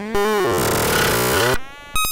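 Harsh, stuttering synthetic tones from the DFX Buffer Override plugin that bend and smear, then break into rapid repeated chopped fragments; a dense, glitchy electronic dubstep texture with no voices.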